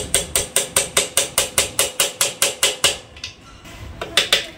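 Sharp metallic blows strike a part on a Juki sewing machine in a fast even series of about fifteen close, loud taps, followed by a pause with faint clatter and a few more hits.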